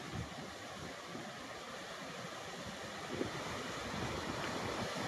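Water pours out of the gates of the Terna dam in a steady, broad roar of rushing flow that grows slightly louder toward the end. No one speaks.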